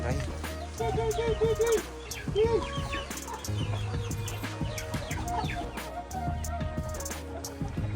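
A farm chicken clucks in repeated short bursts nearby, with other fowl calls scattered around and people talking throughout.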